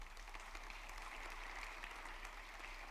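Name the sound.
congregation applauding in church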